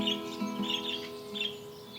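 Garden birds chirp in short, bright bursts, several tweets spaced across a couple of seconds over a faint steady hum, fairly quiet and alone without voices.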